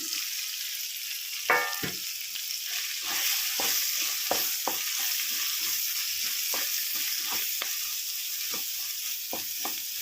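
Ivy gourds frying in a pan for an onion masala curry give off a steady high sizzle, with scattered stirring clatters and a brief louder hiss as gravy is poured in.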